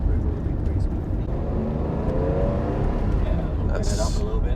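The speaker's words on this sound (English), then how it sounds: "Sounds good, but That can be the flat 12." Flat-12 engine of a Ferrari Testarossa on its factory exhaust, revving steadily at close range with a continuous low rumble and a fairly quiet note, while people talk over it.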